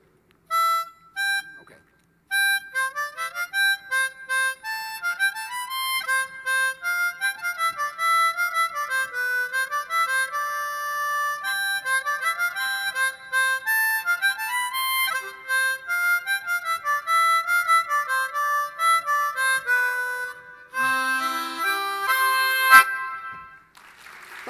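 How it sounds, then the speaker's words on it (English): Miniature spinet playing Bach's Minuet in G, a bright plucked harpsichord-like melody with clear, steady notes heard alone and close, ending in a brief flourish. "I'm gonna play Minuet in G, and it sounds like this."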